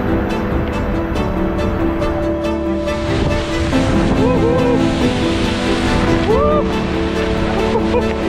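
Seljalandsfoss waterfall in Iceland roars in a steady, loud, unbroken rush of falling water, with faint voices drifting through the noise.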